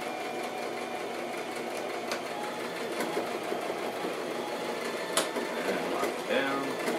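A sewing machine runs steadily while stitching a handbag seam, a close continuous mechanical hum with occasional clicks and a voice talking over it.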